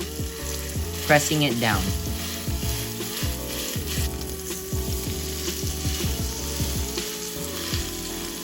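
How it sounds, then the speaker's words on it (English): Loud, steady sizzling of flat iron steak frying in avocado oil in a hot cast iron pan, crackling continuously throughout, with a brief voice speaking partway through. "You want to hear that amazing sizzle."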